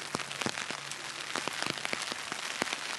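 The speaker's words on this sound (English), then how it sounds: "The rain's dropping on my umbrella" Raindrops patter on an umbrella outdoors, a dense, close spatter of irregular taps and splats over a steady wet hiss, with no voices.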